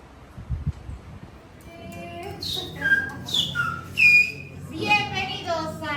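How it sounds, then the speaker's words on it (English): Several distinct whistled phrases, sliding and clear, ring out at a whistling restaurant on La Gomera in the Canary Islands, rising in loudness over a low background murmur. "That's our whistling restaurant."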